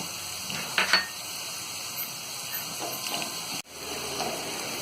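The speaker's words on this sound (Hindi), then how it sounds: "अब इसमें हम ये हरी मिर्च को डाल देंगे। हरी मिर्च को फ्राई करने के बाद में" Green chillies sizzle in a hot pan while cooking chana bhaji, a steady crackling fry with a couple of brief utensil scrapes and clinks, close and moderately loud with no talking.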